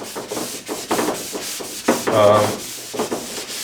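Writing rubbed off a board with a dry eraser in quick repeated strokes, a steady scratchy swishing close by with no talk.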